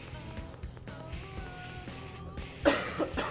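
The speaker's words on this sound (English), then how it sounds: "I'm sorry guys about my cough." A single short cough bursts out near the end, loud and close, over quiet game background music and ambient tones.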